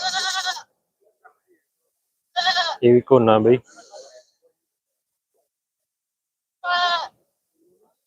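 Goats bleat at a Barbari goat fair in Surewala: three separate harmonic cries spaced across several seconds, loud and close, with a brief burst of someone talking between them.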